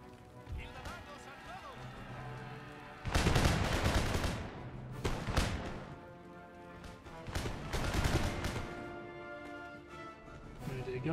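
Musket volleys crack out in an Empire: Total War battle as troops try to scale a wall, dense bursts of rolling gunfire in several waves between quieter stretches, with speech over parts of it.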